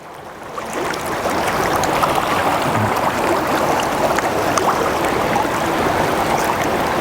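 Water sloshes and trickles steadily in a gold pan while a miner works top material outdoors, hunting for gold nuggets, a continuous close wet rushing with no voices.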